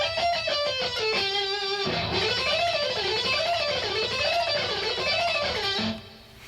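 Distorted electric guitar playing a rapid rock lick, loud and sustained, dense harmonics with bending, sliding pitch waves in the middle before the notes stop abruptly near the end.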